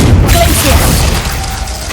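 Spell-casting blasts in Hogwarts Legacy, a Confringo fire spell and a Glacius ice spell: a loud, dense boom with rumbling, crackling impact noise that fills the whole moment, close and forceful.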